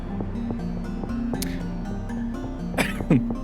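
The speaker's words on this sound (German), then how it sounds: "das habe ich vorhin ins Mikro gehustet" Two short, sharp coughs sound right against the microphone near the end, loud and close, over steady background music from the Shenmue game being played.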